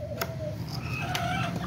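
Hens clucking nearby in a few short, scattered calls over a steady low hum, with no talking.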